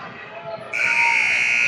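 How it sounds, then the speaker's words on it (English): At a women's college basketball game, the arena buzzer ending the third quarter blares loud and sustained, cutting in sharply after a moment of crowd noise and continuing to the end. "the buzzer sounds, and mercifully for the third quarter, it's over."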